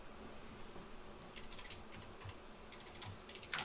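Faint, quick keyboard typing at a computer, a soft patter of light key clicks over a low background hum, with a louder click cluster at the very end.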